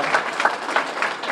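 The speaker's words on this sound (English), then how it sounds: "We can clap for that" Club members clapping at a Kiwanis meeting in Bradenton, a steady wash of hand claps from a room of people, even and moderately loud throughout with no break.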